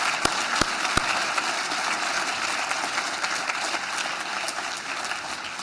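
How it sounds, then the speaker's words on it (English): An audience at a legislative breakfast on mental health applauds its speakers, a few sharp isolated claps opening into sustained, even crowd clapping that carries on throughout. "let's take a moment and give all of our speakers today a big round of applause"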